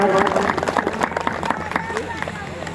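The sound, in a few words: audience applauding loudly to welcome a guest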